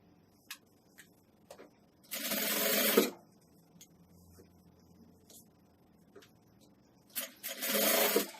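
Sewing machine stitching a nursing pillow, running in two bursts of steady mechanical whirring, one near the start and one at the end, separated by quiet handling clicks and fabric rustle.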